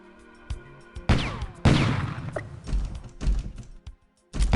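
Gunfire erupts in the video game Robocop SWAT 2 as several loud, sharp bursts, separated by short gaps, over a faint background tone.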